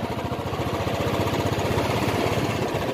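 A Royal Enfield Classic 350 motorcycle engine thumps steadily while riding, a loud, close, rapid low pulsing beat that continues unbroken for the whole stretch.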